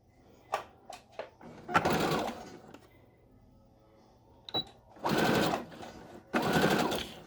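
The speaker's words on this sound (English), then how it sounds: "so let's go stitch this up around," A sewing machine stitches a surgical face mask, starting with a few short taps and then running in steady whirring bursts of about a second each, close and alone.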